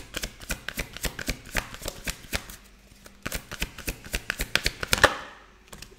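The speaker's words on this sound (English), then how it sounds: "I'm going to pull you another card from this deck" A tarot card deck is shuffled close up in quick riffling bursts, a rapid run of crisp flicks, a short pause, then another flurry ending in a soft snap.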